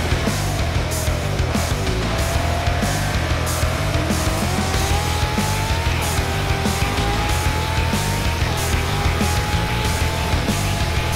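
Brabham BD44B race cars howl around the Zandvoort circuit in a sim racing game, with steady, loud engine drone and rising and falling pitch as several cars pass, plus occasional tire squeal.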